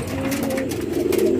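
Native Bengali pigeons cooing in a farm loft on a foggy morning, a close, loud, sustained throaty coo with rolling pulses, alone without talk.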